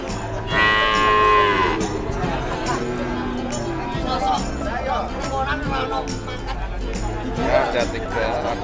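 Young PO breed calves, about three months old, mooing repeatedly and close at the Wirosari cattle market in Purwodadi, Grobogan, over steady crowd babble and nearby voices talking.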